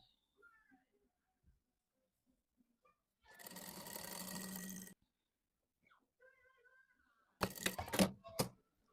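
Sewing machine stitching the side seam of a summer sarafan, running in a steady whirring burst of about two seconds, then a shorter, choppier run after a pause, close and alone in a quiet room.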